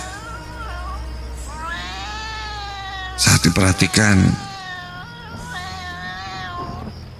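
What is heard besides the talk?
cat meowing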